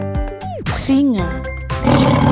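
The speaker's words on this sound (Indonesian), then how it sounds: "Singa." A plastic toy lion's electronic roar, a loud growling call with shifting pitch lasting a couple of seconds, heard up close with no talk over it.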